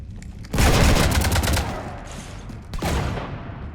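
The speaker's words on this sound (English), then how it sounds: "You want to stop shooting up my ship?" Rapid gunfire strafing a ship in Mass Effect 3, a loud dense volley of shots lasting about a second before tapering into a rumble, then a second burst of fire, with no talking.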